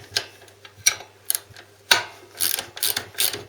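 An open-ended spanner working a lock nut on a Harley Sportster, giving sharp metallic clicks and taps at irregular intervals, with a few quick clustered ticks late on and a steady low hum underneath.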